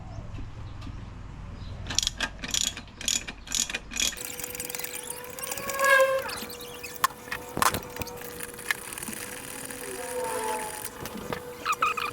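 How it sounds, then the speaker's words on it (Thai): Nuts are loosened on a Suzuki 6 hp four-stroke outboard engine with a ratchet wrench, giving quick clicking ratchet strokes and metallic clinks, close and moderately loud, with a faint steady hum in the background. "ก็จะคลายน็อตสองตัวนี้ก่อนนะครับ"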